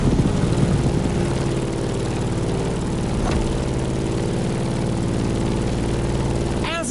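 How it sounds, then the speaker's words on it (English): A Grumman F8F Bearcat propeller plane flies in The Crew Motorfest, its engine holding a steady, loud, continuous drone throughout with a brief whoosh near the end. "In the cockpit of a stunning Grumman F8F Bearcat"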